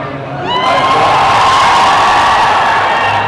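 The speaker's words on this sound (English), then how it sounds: "A round of applause for this Shama." Large crowd cheering and shouting loudly at an Indian 2 movie promotional event in a Kochi mall, a sustained roar of whoops and yells that swells after a brief quieter start.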